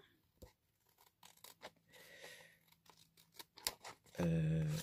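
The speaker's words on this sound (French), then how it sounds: "je viens découper ce qui dépasse" Scissors snipping off excess paper from a junk journal page, a series of short close crisp cuts and rustles with quiet gaps, ending in a louder sustained burst of rubbing or handling noise.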